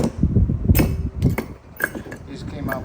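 Sharp metallic clinks and taps as brake pads are worked out of the front caliper bracket on a 2019 Toyota Highlander, a few close, irregular knocks over a low rumbling background.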